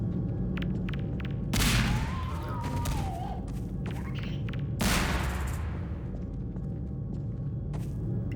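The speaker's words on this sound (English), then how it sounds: "Let's roll a few grenades in there." Two grenades burst in Half-Life 2, each a heavy thump with a rumbling tail, a few seconds apart, over a low game hum and scattered smaller hits, while someone talks.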